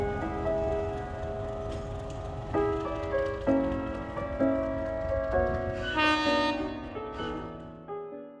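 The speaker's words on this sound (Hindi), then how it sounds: "हमारी जो ट्रेन है जो ओमकारेश्वर से चलकर यहाँ पे डॉक्टर अंबेडकर नगर आ चुकी है" A meter gauge train from Omkareshwar pulls into Dr. Ambedkar Nagar station (Mhow) with a low rumble under long, blaring horn tones that shift in pitch, then fade away.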